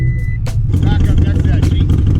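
A vehicle reverses to load a Harley-Davidson Iron 883 motorcycle. A steady low engine rumble runs throughout, with a short high beep at the start and people talking over it.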